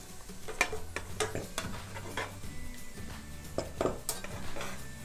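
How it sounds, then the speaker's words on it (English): Meat tossed with green onions in a hot pan while sauteing, heard as close clanks and scrapes of utensil on metal over a low sizzle. The knocks repeat at an uneven pace. "Put this right here, turn this flame up, and get to sauteing."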